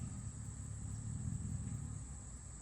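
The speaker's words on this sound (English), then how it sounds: "He has a loud squatted truck" A loud squatted truck's engine rumbles low and steady at a distance, a deep idling growl holding under a faint high-pitched hum.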